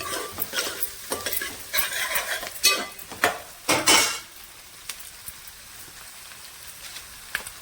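Onions and green chilies frying in a pan for a cucumber curry: crackling sizzle with bursts of stirring that grow loud before fading to a quieter hiss, no talking.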